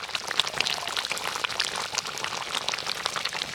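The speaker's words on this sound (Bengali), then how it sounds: "গুড়ের মধ্যে ফুটে আমটা কিন্তু ভালোভাবে সেদ্ধ হয়ে গেছে" Raw mango simmers in jaggery syrup, giving a soft, continuous bubbling with dense tiny pops and crackles. The sound is faint and steady, and no one talks.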